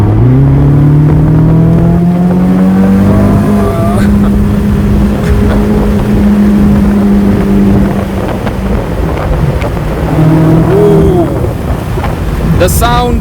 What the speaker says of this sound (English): The sound of that NA-V8 is glorious, and utterly glorious.